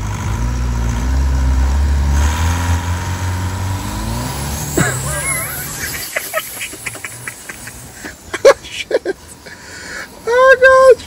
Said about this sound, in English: That's a powerful engine.